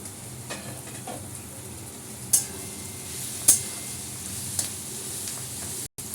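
Carrots, capsicum and beans sizzle steadily while being sautéed for chow mein, with occasional sharp clinks of a utensil against the pan rising above the constant frying hiss.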